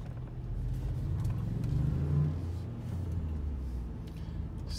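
A Ford 3.5 L EcoBoost turbo engine hums low and fairly quiet from inside the car, swelling briefly as it builds and then settling into a steady drone.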